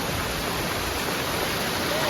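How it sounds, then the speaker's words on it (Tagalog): Cambugahay Falls waterfall rushing as a dense, even roar of falling water, close and constant with no break. "Cambugahay Falls."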